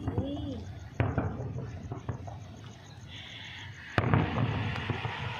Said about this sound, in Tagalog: Dahil Friday ngayon, siguro more yung kanilang fireworks.